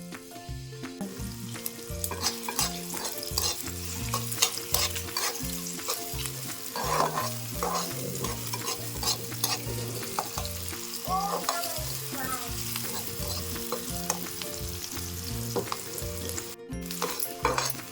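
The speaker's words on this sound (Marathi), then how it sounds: "कांदा भाजलाय चांगला" A chopped onion fries in oil in a kadhai for a Konkani-style cashew curry, giving a steady, close sizzle with occasional stirring scrapes that runs the whole time over a tonal background hum.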